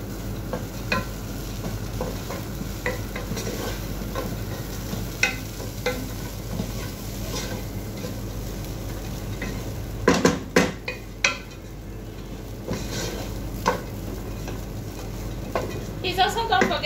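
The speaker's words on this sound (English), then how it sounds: "Stir it and let it cook for another 5 minutes on a minimum heat." Food being stirred in a pan over low heat, with scraping spoon-on-pan sounds and a soft sizzle running steadily throughout, plus a cluster of sharper utensil clinks near the end.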